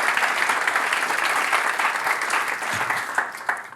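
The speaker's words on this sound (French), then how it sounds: "je pense qu'on peut applaudir Kémil, s'il vous plaît" A studio audience at a late-night comedy show applauds comedian Kémil, steady dense clapping that runs loud and unbroken for several seconds with a few sharper claps near the end.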